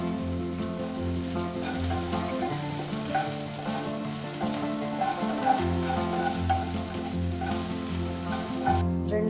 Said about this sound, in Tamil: கடாயில் 2 ஸ்பூன் அளவுக்கு எண்ணெய், ஒரு சின்ன துண்டு இஞ்சி சாப் பண்ணி வச்சுருக்கேன், அதை போட்டுக்கலாம்.